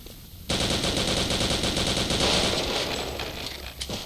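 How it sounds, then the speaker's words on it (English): MP40 submachine gun firing in the Return to Castle Wolfenstein video game: one loud, sustained burst of rapid automatic fire lasting several seconds, trailing off near the end. "the MP40 doesn't do a heck of a lot of damage"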